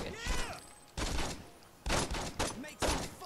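Gunfire in Saints Row 2, four sharp loud bursts spaced about a second apart, each a cluster of rapid cracks, with voices talking in between.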